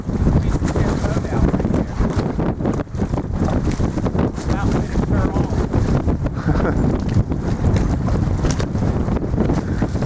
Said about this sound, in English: The wind's blowing straight this way.